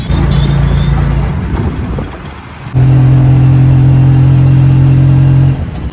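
An auto rickshaw's small engine idles with a steady low hum, then revs louder for a few seconds before easing off.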